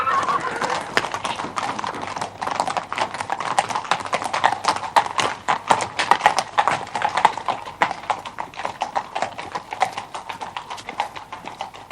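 Horse hooves clip-clop in a quick, steady rhythm throughout, close and fairly loud, with no one speaking.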